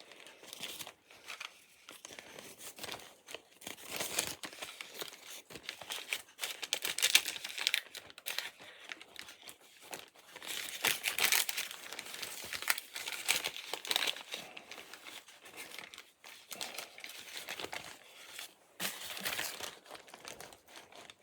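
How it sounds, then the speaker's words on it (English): Wax paper being peeled away and crinkled by hand, a steady run of close, dry crackling and tearing rustles that swell and ease in bursts, with no talking. "It's a little tricky getting the last of the wax paper off"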